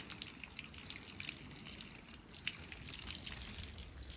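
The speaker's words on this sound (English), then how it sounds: "So you just gently water." Water gently poured over freshly sown seedlings, a quiet, continuous trickle with faint drips and splashes as it soaks into the soil.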